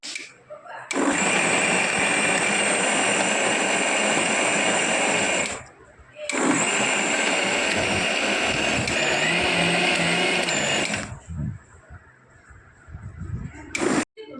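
Mixer grinder whirs loudly and steadily, blending boiled dates, tamarind and jaggery into chutney, with two long runs split by a brief pause and a short burst near the end.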